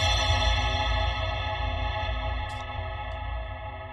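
Atonal atmospheric synth texture built from a single saw wave processed with MTransformer, a steady dense wash that holds at an even level and slowly fades a little, with no voice over it.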